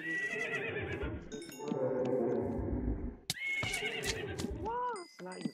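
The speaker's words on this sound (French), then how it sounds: "Un cheval squelette!" Minecraft skeleton horse neighing: several whinnies with rising and falling tones stand out over game sounds and a speaking voice, close and fairly clear, with hoof-like clopping and short pings between them.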